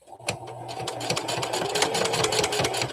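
A sewing machine runs slowly over pinned fabric during a mouse-pattern sewing project, a close, steady mechanical whir with rhythmic needle clicks and no talk.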